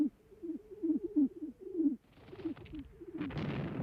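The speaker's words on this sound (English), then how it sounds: "Thousands of birds were held ready in mobile pigeon lofts like this." Carrier pigeons in a mobile pigeon loft coo in a run of repeated low, rolling calls. Later a rougher rustling noise rises and masks the cooing.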